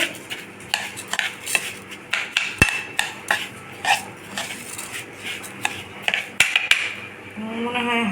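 Hands mix food with ghee and a little food colouring in a bowl, giving a busy run of soft squelches, knocks and clinks against the dish, close and moderately loud.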